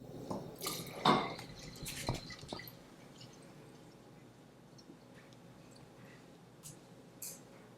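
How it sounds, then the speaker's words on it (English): Water poured into a glass of iodine and electrolyte mixture: a few close splashes, drips and glassy clinks in the first seconds, then near quiet with a faint drip near the end. "I'm gonna add more of our water to it, and then you'll see how it changes"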